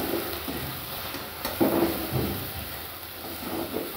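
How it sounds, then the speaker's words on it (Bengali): Turmeric and cumin powders being stirred in a pan for chicken curry, soft scraping and shuffling over a low sizzle, fairly quiet and steady with no talking. "এবার সব মশলাগুলো একটু মিশিয়ে নিতে হবে।"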